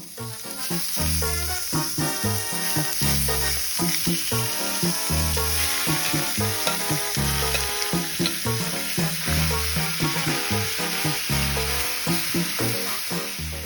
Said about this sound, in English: In a saute pan set over high heat, add some oil, then the marinated steak and onions.